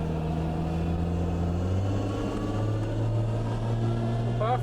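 A Holden VL car on the move, its straight-cut billet planetary gearbox giving a steady loud whine with rising tonal pitch over the engine drone, recorded from inside the car.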